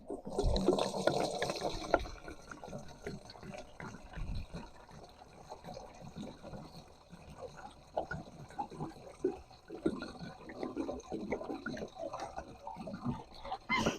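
Water pours into a disinfectant sprayer pump on a farm, a close splashing and gurgling fill with uneven trickling surges, loudest at the start and continuing at a moderate level.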